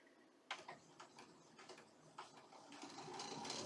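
A sewing machine stitches quilt pieces for a spring quilt, starting with a few slow, separate stitch clicks and then running into a quicker, steadier burr. It sits close and quiet with no talking.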